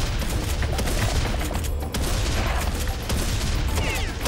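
Sustained rapid gunfire aimed at a scorpion enemy in Serious Sam 3, a loud, dense fusillade with a brief break before the shooting resumes and continues steadily.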